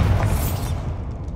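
A Bombarda spell detonates in Hogwarts Legacy on PS5, a single loud explosive burst with a crackling, shattering edge that decays into a low rumble, close and without voices.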